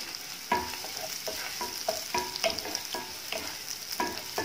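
Sliced onions frying in a couple of spoons of oil in a pot, a low sizzle punctuated by repeated rhythmic scrapes and taps of a spoon stirring, close and fairly quiet.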